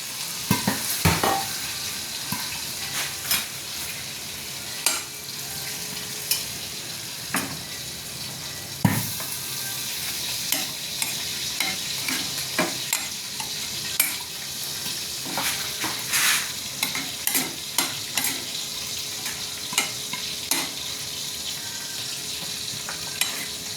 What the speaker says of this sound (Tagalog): Lagyan na natin yung munggo